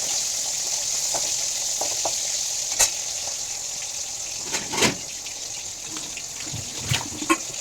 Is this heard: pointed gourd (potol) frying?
yes